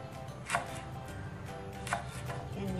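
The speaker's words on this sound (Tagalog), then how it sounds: "Tatlong tangkay ng lemongrass. Hiwain ko siya ng maliliit." A knife chops three lemongrass stalks into small pieces on a cutting board while making Tom Yum, with steady close chopping punctuated by two sharper, louder strikes.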